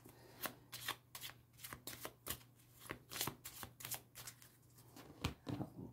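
A deck of playing cards being cut and shuffled for a card reading, a rapid run of close, crisp flutters and slaps over a low steady hum.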